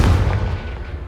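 In Hogwarts Legacy, a Confringo blasting spell explodes with a loud, deep, close boom that rolls off into a fading rumble within about a second.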